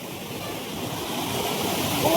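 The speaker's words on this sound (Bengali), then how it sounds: "ওই দিক থেকে আসছে ঝর্ণার জলটা" A steady, close rushing roar of a waterfall, continuous and broad, without pauses.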